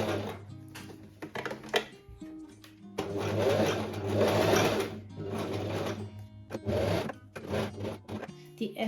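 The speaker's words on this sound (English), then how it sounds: "I will go over here and here with a zigzag stitch" A sewing machine runs a zigzag stitch across layered linen at a skirt hem, sewing in several bursts of steady whirring, close and loud, with pauses between runs and a voice talking during the breaks.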